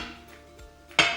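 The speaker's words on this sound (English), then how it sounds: "just remove this and put it straight into the boiling water." Grated sweet potato is tipped into a pot of boiling water, ending in one sharp metallic clank of cookware near the end after a quiet, faintly humming kitchen background.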